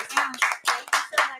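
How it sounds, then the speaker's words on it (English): A small live audience claps at the end of a podcast recording session, a handful of close, uneven bursts of hand claps with short gaps between them and light voices mixed in. "This episode ended on applause."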